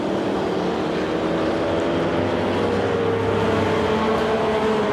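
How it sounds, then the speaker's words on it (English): Group 4/5 sportscars race at Silverstone in an endurance event, a continuous roaring engine drone with a pitch that slowly shifts as cars pass, heard without talk. "90 minutes of endurance racing here at Silverstone."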